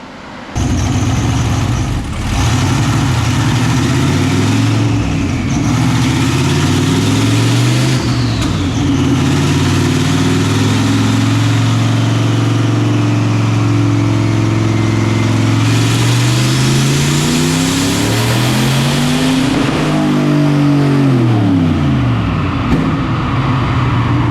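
A turbocharged truck with a T56 transmission pulls hard in third gear on a dyno, its engine revving loud and close for a long sustained sweep, the pitch rising steadily before dropping off near the end.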